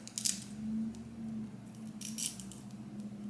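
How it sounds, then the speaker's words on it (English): An eyebrow razor trims excess lace from a 13x6 HD lace front wig, giving soft, close scraping cuts in two brief bursts over a faint steady hum. "Okay, so now we're gonna move on to the middle and cut off this excess lace."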